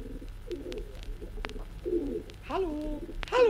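Pigeons cooing in a courtyard by the ash bins, several soft throaty coos and a few warbling calls, close by, with quiet background noise and no one speaking.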